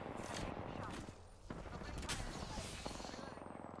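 Gunfire in Apex Legends, rapid bursts of automatic shots from a nearby weapon, dense and continuous across the moment with a voice talking over it.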